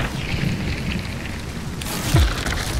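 Steady rainfall in the game Hunt: Showdown, a continuous even hiss of drops with a dull low thump near the end, no voices.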